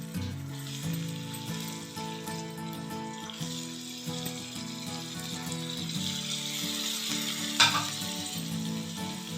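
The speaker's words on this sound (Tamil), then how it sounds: "நெய்யில் கொஞ்சம் தேங்காவை ஃப்ரை பண்ணி போடலாம்" Grated coconut frying in ghee gives a steady, close sizzle with occasional stirring scrapes, a sharp clink near the end, and a faint tonal hum underneath throughout.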